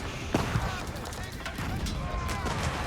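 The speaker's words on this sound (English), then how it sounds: "Hand cannoneers engaging." Hand cannoneers firing in Age of Empires 4, a dense battle soundscape of overlapping gunshots and booming volleys, with sharp cracks near the start and middle over continuous combat noise, with talk mixed in.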